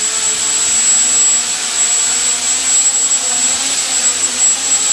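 The motors of a small AeroQuad quadcopter spin with the throttle raised, giving a loud, steady, high-pitched whine that hums continuously at close range.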